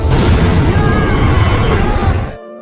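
A grenade-like explosion erupts in a Z Nation zombie scene inside an air duct, a loud, dense, sustained boom and rumble that cuts off abruptly into quiet after about two seconds.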